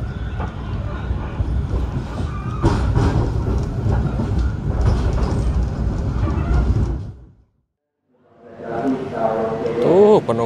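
Steady rumbling of the Tawang Jaya passenger train on rails that drops away to near silence, then builds again with a rising squeal of wheels or brakes.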